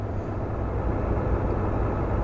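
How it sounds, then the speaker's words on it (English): Deep V8 rumble from a car sound mod, a low steady droning engine note held at an even level for a couple of seconds with no voices over it. "There's a good V8 sound."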